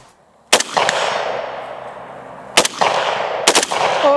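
An AR-15 rifle fitted with a forced reset trigger fires sharp, loud gunshots outdoors: one single shot, then a quick pair a second later, each followed by a long rolling echo.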